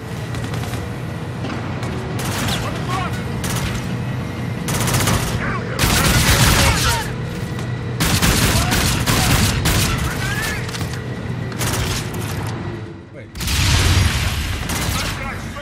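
Call of Duty Infinite Warfare campaign gunfire: dense, loud bursts of automatic weapon fire and explosions in repeated volleys, with game sounds filling the gaps.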